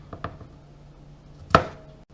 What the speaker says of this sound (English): we're just going to continue to do that until the whole onion is completely chopped